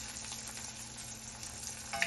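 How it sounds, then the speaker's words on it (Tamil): Chopped garlic sautés in hot oil in a pan with a steady, quiet sizzle and crackle throughout, without any talking, and a faint stir-like clink at the very end. "ஸோ பூண்டு கொஞ்சம் நேரம் வதங்கட்டுங்க"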